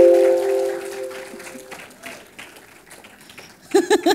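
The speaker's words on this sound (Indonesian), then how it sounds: "Berikan tepukan, kita nak semangat." Audience applause for the Nyala Dance Theater dance group at a stage performance, a scattered mid-level clapping that fades gradually, with a few louder bursts near the end.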